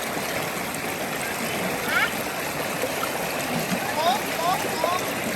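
A steady, broad rush of a waterfall fills the scene continuously, with faint chirps or calls now and then.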